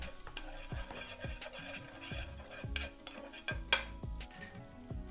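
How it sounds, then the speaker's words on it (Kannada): Butter is spread around a hot tava for bread pizza, with a utensil scraping and swirling across the pan in repeated quick strokes and a soft sizzle underneath. Close and fairly quiet, no talking. "ಬಟರ್ ಹಾಕಿ ಸ್ವಲ್ಪ ಎಲ್ಲ ಕಡೆ ಹಚ್ಚೋನು."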